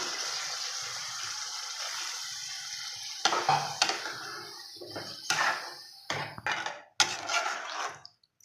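Water pours steadily into a pot of meat curry for a few seconds, then breaks into splashy, uneven bursts and sloshing before tapering off.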